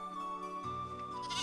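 A goat bleats in a sustained, wavering cry that swells and becomes brighter toward the end. No one speaks over it.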